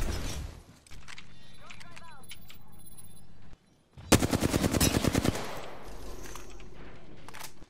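Flatline rifle fire in the Apex Legends video game comes as a loud, rapid automatic burst near the middle, after a stretch of game ambience with a voice talking over it.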